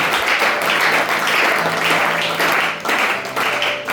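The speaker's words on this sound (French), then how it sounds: "Est-ce qu'on peut acclamer pour la gloire de Dieu?" Loud, continuous applause fills a church as the congregation claps during a Sunday service, dense and steady with slight surges, over a faint sustained organ-like tone.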